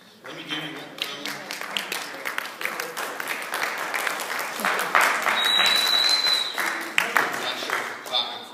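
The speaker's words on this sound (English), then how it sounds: "I'm not sure if we're clapping for her again." An audience at a church marriage session breaks into steady, lively applause that builds and holds, many hands clapping close together, with a voice or two faintly underneath.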